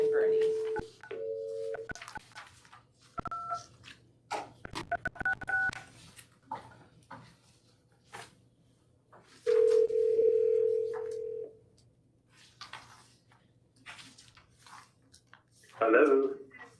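A telephone call placed for public testimony at a Honolulu Police Commission meeting: a string of keypad tones and dial tones sound, followed by further beeps and tones between bits of speech.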